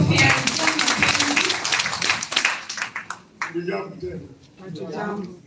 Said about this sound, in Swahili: Makofi wapi? Makofi yake.